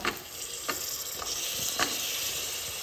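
Chopped tomatoes going into onions frying in a pan for chicken kurma, with a steady close sizzle and a few soft scraping stirs across it, and no voices.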